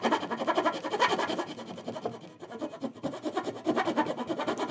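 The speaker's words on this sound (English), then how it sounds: "So half round rasp is what we're using." A half-round rasp files wood with continuous rough scraping strokes that rise and fall in an even rhythm, close up and moderately loud, with a brief pause midway.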